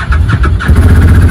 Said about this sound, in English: So I'm just going to start it up right now.